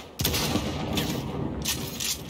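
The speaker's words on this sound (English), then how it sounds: "Why are you shooting at me?" Gunfire aimed at the player in Cyberpunk 2077, heard as a steady, loud, dense rattle of shots with a few sharper cracks standing out over a couple of seconds.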